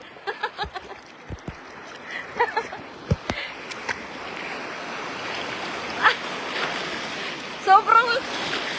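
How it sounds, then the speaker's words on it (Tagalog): Strong, tall ocean waves break and surge on a beach in a continuous wash of surf, with people talking and exclaiming over the water at times. "Sobrang lakas ng alon"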